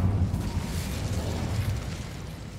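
In the video game Hogwarts Legacy, an Incendio fire spell burns through webs, producing a deep, rumbling roar of flame that holds steady and fades slightly toward the end.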